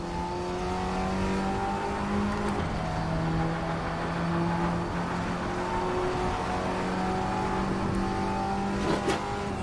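Audi TT Cup 2016 race car in the RaceRoom game at RaceRoom Raceway National, its engine droning steadily and rising in pitch as it accelerates, loud and continuous throughout with brief gear-change dips.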